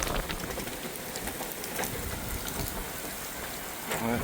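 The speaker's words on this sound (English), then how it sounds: "creating these large cells of rain and storms" Rain pours down from a passing precipitation cell over Montreal, a steady hiss with scattered droplet taps at moderate distance and no speech.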